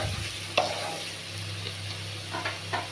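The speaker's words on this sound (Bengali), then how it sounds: "জিরে গুঁড়ো দিয়ে তারপর আবার খুন্তি দিয়ে একটু নেড়ে নিচ্ছি।" A spatula stirs ground cumin and chili powder through a sizzling pan of lau and moong dal curry, giving a steady frying hiss with a few scraping strokes, close and moderately loud.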